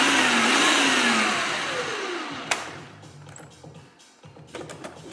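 A blender runs on cheesecake batter for an Instant Pot cheesecake, loud and whirring at first, then winding down. It ends in a few short pulses and clatters.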